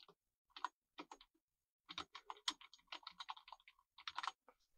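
Quiet bursts of typing on a computer keyboard, irregular clusters of crisp key clicks with short pauses between them, close and soft.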